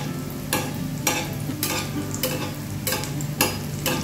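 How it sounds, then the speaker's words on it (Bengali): Egg chaat bora fries in hot oil with a steady sizzle while a utensil stirs it in regular scraping strokes, roughly every half second, close up and without talk. "এরকমভাবে নাড়লেই কিন্তু সুন্দর ভাজা হয়ে যাচ্ছে"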